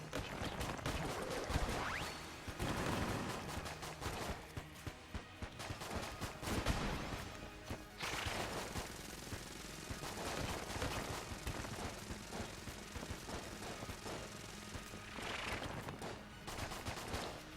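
Continuous gunfire from a gun in the video game Enter the Gungeon, quiet but dense, with rapid shots, chattering bursts and heavier swells over a busy game soundtrack, with nobody speaking.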